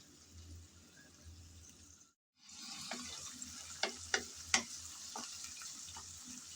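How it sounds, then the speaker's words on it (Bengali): Shrimp frying with onion and garlic in a pan, a quiet steady sizzle broken by a brief cut, then louder bubbling with a few sharp crackles and stirring knocks close by. "কিছুক্ষণ সময় নিয়ে চিংড়ি ভেজে নিলাম।"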